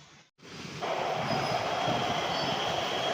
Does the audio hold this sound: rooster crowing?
no